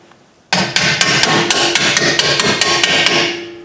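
Rapid metallic hammer taps drive a bolt into the lower mount of a rear adjustable BC Racing coilover shock on a 2010-2015 fifth-generation Chevrolet Camaro. About a dozen loud, close, evenly spaced strikes ring out after a brief quiet start.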